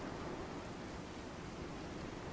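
Radiation rainstorm in Fallout 4 with the True Storms weather mod, a constant heavy downpour hiss that holds level throughout, with no voices.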